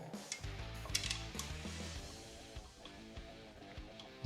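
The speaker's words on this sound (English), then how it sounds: "Now I just put the bolts in" Bolts are fitted into an engine timing cover during a rebuild, with quiet metallic clinks, taps and light ratcheting up close, a small flurry early on and then sparse ticks.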